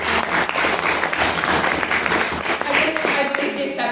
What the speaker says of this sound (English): So round of applause for Ben.